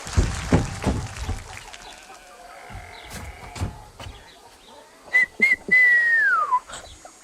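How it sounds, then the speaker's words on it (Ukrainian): After some sharp knocks and clatter, a person whistles a single clear note that wavers and slides downward before stopping. "Я ж ніколи свистіти не вміла."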